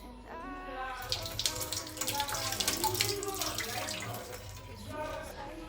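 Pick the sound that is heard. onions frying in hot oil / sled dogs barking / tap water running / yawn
tap water running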